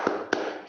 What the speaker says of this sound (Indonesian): Ibu akan melakukan tepuk semangat